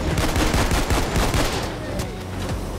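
Dense rapid gunfire from the Payday 2 video game heist, continuous overlapping bursts of shots and impacts with a faint voice in the mix.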